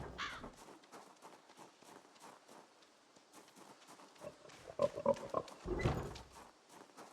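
Pigs in the video game Project Zomboid grunt and oink in short irregular bursts, faint at first and then louder and closer near the end, with some scattered clatter.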